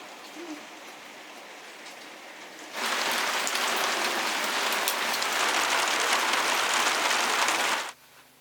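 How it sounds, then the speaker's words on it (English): Rain starts abruptly, a loud dense hiss of rain falling on surfaces that holds steady for about five seconds and then cuts off sharply, after quieter ambience. "rain is amazing, but why didn't it hold off another hour?"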